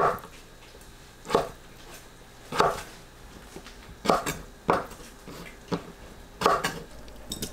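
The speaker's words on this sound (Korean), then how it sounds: "김밥용 단무지를 3등분하고 채 썰어줍니다" A knife slices pickled radish for gimbap into strips on a board, with sharp single chops spaced about a second apart over a faint background hum.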